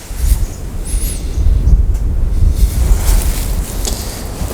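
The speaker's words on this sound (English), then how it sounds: "I have to shield my camera from the wind." Gusts of wind buffet a camera microphone outdoors, giving a steady low rumble that swells and eases for several seconds, with no speech.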